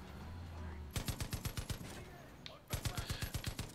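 Rapid bursts of automatic gunfire from a Far Cry 5 co-op session, two volleys of about eight evenly spaced shots each, loud and close, separated by a short lull with background game noise.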